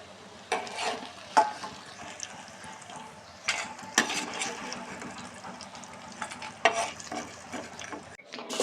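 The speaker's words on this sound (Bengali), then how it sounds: "এরপর এর মধ্যে আমরা পনিরগুলোকে ভেজে নেব" Paneer pieces fry in hot oil in a pan for a vegetarian broccoli dish, a continuous soft sizzle broken by several sharp scraping clatters of a spoon stirring, close up with no talk.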